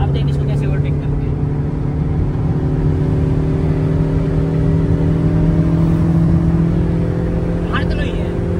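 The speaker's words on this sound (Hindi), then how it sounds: "खैर अब देख इसको कैसे ओवरटेक करते हैं।" A Ford Mustang on a highway holds a steady, droning engine note with constant road and wind roar inside the cabin, with no clear rise in revs as it moves to overtake.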